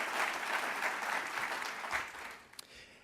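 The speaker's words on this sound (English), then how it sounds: "I would like just to recognize one more time a sign of applause for those who volunteered their time." Steady audience applause at a business event on social media strategy, honoring volunteers; moderately distant, a continuous clatter of many hands that thins out toward the end.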